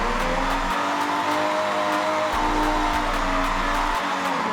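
A Toyota Chaser drifting in Forza Horizon 6 holds a loud, steady engine drone at high revs, with a continuous tire squeal over it and short periodic pulses from the engine.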